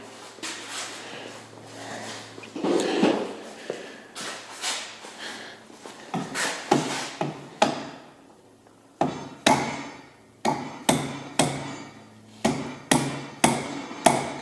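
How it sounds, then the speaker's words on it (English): A mallet taps repeatedly at the nuts on a Tesla Model S electric motor during a teardown, sharp metallic knocks landing in irregular bursts, then settling into a steady series of evenly spaced blows, close and loud. "I bet if you tap those nuts with that mallet, it's behind it, Dan."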